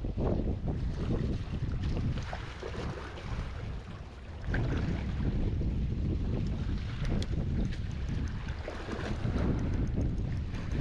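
Strong wind buffeting the microphone in a steady roar, with boat and surf-like wash beneath, during float fishing for black sea bream at sea; loud and constant with a brief lull midway, no voices.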